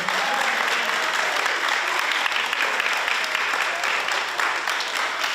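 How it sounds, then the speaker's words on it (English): A crowd at a dance ground event applauds Choctaw social dancers steadily for several seconds, a dense, continuous wash of clapping. "Everybody, give them a round of applause."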